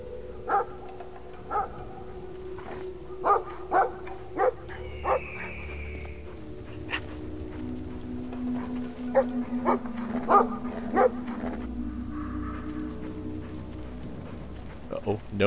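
A guard dog in the video game Brothers: A Tale of Two Sons barks repeatedly in short, sharp bursts spread across the span, mixed with game sounds and a player's nervous talking.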